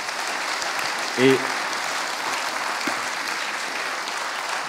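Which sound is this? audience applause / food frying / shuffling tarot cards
audience applause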